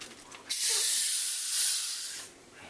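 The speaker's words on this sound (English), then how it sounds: "As you hear, it's carbonated." A sharp, steady hiss of gas rushing out as the cap is loosened on a bottle of homemade carbonated cream soda, lasting nearly two seconds before tapering off.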